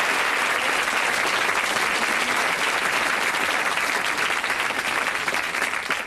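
A studio audience on the Bullseye game show gives a sustained round of applause, dense and even throughout, with no talking over it.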